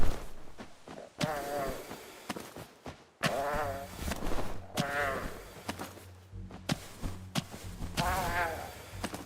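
Chickens in a chicken house in the game REKA call out in a string of wavering, bleat-like cries, several close, loud bursts separated by short pauses.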